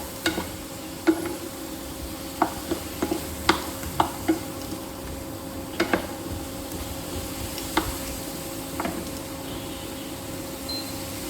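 Spice paste thinned with a little water is stirred into pointed gourd in a pan, giving scattered close scraping clicks over a faint, steady sizzle.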